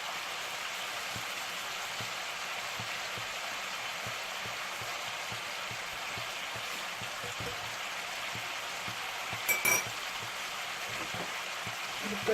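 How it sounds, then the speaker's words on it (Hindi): Mutton chops frying in a pan with turmeric and salt give a soft, continuous crackling sizzle, faint and even throughout like light rain, with no voices. "इस तरीके से गोश्त को भूनेंगे कि उसकी जो है स्मेल वो ख़त्म हो जाए।"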